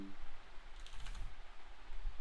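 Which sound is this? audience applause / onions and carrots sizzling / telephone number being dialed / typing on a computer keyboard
typing on a computer keyboard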